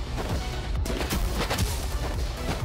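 Sniper rifle and other gunfire in the video game Afro MFE: dense, loud, booming shots and impacts firing repeatedly in a chaotic stream.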